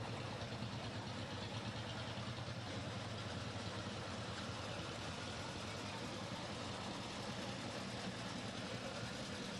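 A restored tractor in a county fair parade idles steadily throughout, a continuous low rumble with no breaks, heard at moderate distance beneath faint background noise.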